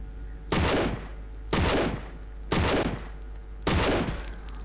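Four loud bursts of gunfire in the video game No More Room in Hell, each a sharp crack followed by a short decaying rumble, spaced about a second apart with no talking.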